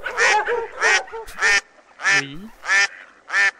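A duck-quack sound effect plays as a series of six short, loud, nasal quacks in an even rhythm, played during a general-knowledge quiz show, with a brief spoken word among them.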